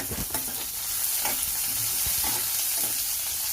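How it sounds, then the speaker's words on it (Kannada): Onions frying in hot tempering oil for a brinjal palya, a loud close sizzle with stirring scrapes and soft clinks, no talking. "ಈರುಳ್ಳಿ ಎಲ್ಲ ಒಗ್ಗರಣೆ ಕೊಟ್ಟು ಚೆನ್ನಾಗಿ ಫ್ರೈ ಆಗ್ತಾಯಿದೆ"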